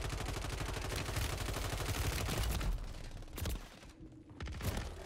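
Video game gunfire rattles in fast automatic bursts, loud and continuous for nearly three seconds, then a few more scattered shots after a brief lull.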